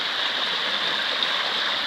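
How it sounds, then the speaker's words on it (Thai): Rainwater after a heavy downpour rushes steadily along a small waterway toward a canal, a constant close wash of flowing water with no break. "ทางน้ำไหล"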